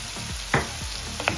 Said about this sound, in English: I'll allow it to fry for about 3 minutes before adding my seasoning cube and the rest of the ingredients